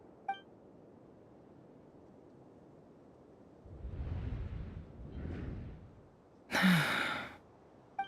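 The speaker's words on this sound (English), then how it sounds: "I heard Yehuda gasp" A Genshin Impact character lets out breathy sigh-like exhalations, then a sharp, louder gasp near the end, with no talk.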